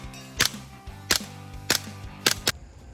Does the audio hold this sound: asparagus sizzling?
no